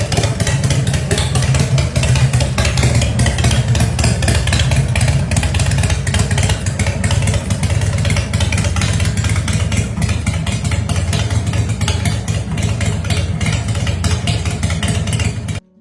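A 2006 Arlen Ness Lowliner with a 2,032 cc S&S V-twin engine runs loud and close, holding a steady, dense, throbbing idle with a little clatter throughout.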